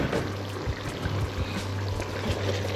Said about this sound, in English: We're gonna add in our rice.